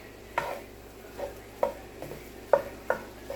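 Spam is stirred into fried rice in a pan, with soft scraping and clinking utensil strokes at an irregular pace over a faint sizzle, quiet and close, with no talking.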